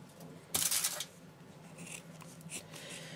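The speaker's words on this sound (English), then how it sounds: "So I'm going to cut it into quarters." Scissors snip through a cotton pad to cut it into quarters, giving one quick, crisp cut near the listener, followed by faint rustling in a quiet room.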